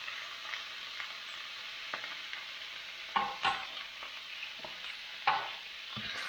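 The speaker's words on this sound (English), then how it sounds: "Give that a stir." Goulash meat sizzles softly in a frying pan while a spoon stirs it, scraping and clinking against the pan in irregular strokes, with a few louder knocks over a quiet, steady fry.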